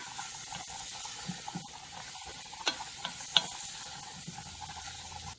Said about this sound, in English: While your mushrooms are sauteing